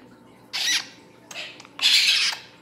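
A talking parrot lets out three harsh, raspy squawks, two long bursts with a shorter one between them, fairly close against a quiet background.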